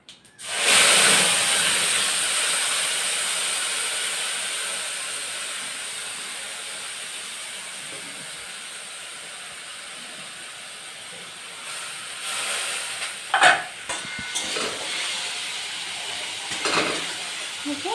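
Spice paste for a pointed gourd curry hitting hot oil, a loud sudden sizzle that slowly fades to a softer hiss, with a few utensil scrapes and knocks near the end.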